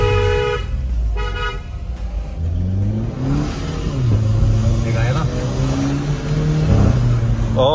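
Stage 4 tuned VW Polo GTI with DSG gearbox revving hard and accelerating, the engine note climbing through rising sweeps with a horn toot near the start, loud and close, while people talk over it.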